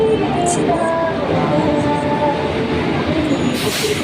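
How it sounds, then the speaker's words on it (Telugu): A Nandyal train rolls into Renigunta railway station, a loud continuous rumble of wheels and carriages with faint squeals and a brief hiss near the end. "మా నంద్యాల ట్రైన్ వచ్చేసరికి"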